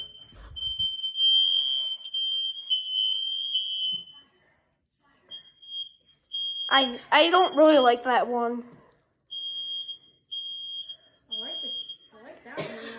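Smoke alarm sounding during a test, a piercing steady high beep repeating in long stretches near the device, broken by a gap while people talk over and between the tones.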